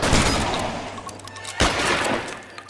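Rapid gunfire in the LA Noire shootout, a dense volley of loud, close shots with a sharp burst around the middle, continuing without talk over game ambience.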